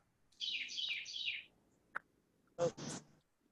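Birds chirping: a quick warbling phrase is followed by a single sharp chip and then a pair of louder rasping calls, all moderately close and heard without talk.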